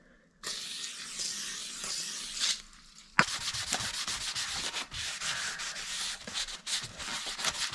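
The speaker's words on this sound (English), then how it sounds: "let that soak for a bit and then wipe it down" Cloth wiping protective residue off a new Geo Tracker front brake rotor, brisk rubbing strokes in rhythmic bursts, a short pause, then a sharp knock before more close, loud scrubbing.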